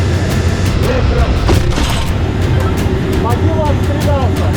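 A tank gun fires a single heavy boom from RDK tanks in the Donetsk direction, standing out over constant engine and vehicle rumble, with voices talking nearby.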